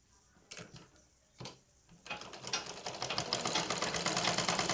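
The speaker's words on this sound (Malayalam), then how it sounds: "എന്നിട്ട് നമുക്ക് ആദ്യമേ ഈ 2 തുണിയും കൂടി ബാക്കിയുള്ളത് അടിയിലേക്ക് ഇങ്ങനെ സ്റ്റിച്ച് ചെയ്യാം." A sewing machine stitches two layers of fabric, starting with a couple of short bursts before settling into a steady, fast run of rapid needle clicks, close and alone.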